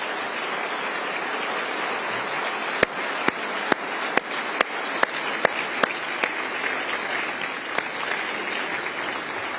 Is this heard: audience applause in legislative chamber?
yes